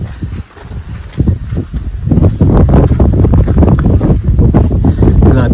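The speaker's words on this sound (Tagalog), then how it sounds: "Grabe ang lamig ng hangin dito." Strong cold wind buffets the microphone on a river channel trip toward the Mt. Pinatubo crater lake in Botolan, Zambales, a loud continuous roar and rumble that grows stronger after the first two seconds, with boat and water noise mixed in.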